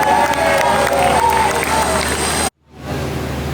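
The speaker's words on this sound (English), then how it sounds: "Yeah, they're cheering for us, really." A crowd cheers and shouts outdoors in Paris near Notre Dame for a newly married couple, a loud dense roar of voices and calls that breaks off abruptly, then a quieter murmur returns.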